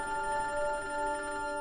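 A telephone rings in a drama scene, a steady electronic tone held without a break, moderately loud and alone with no talk.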